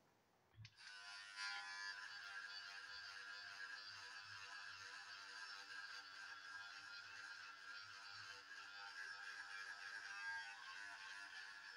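An electric facial device with a soft silicone exfoliating head switches on and buzzes steadily and evenly, close by, for around eleven seconds with no talking.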